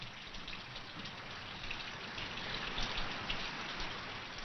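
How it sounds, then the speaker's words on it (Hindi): Steady monsoon rain hisses down continuously as a dense, even wash of droplets, with no voices over it. "केवल ये वर्षा मुझसे नहीं सही जाती।"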